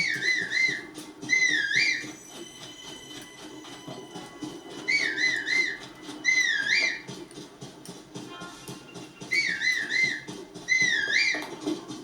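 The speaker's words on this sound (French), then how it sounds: "On va les appeler en sifflant." Whistled calls from a character in Zelda: Tears of the Kingdom, a loud two-part rising and falling whistle repeated three times at regular intervals over a steady game soundscape.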